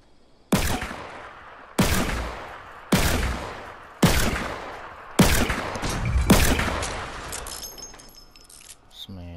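Gunfire in the video game Fortnite: five or six sharp, loud shots land at roughly one-second intervals, each with a decaying ring. A brief electronic tone follows near the end, and there is no talk.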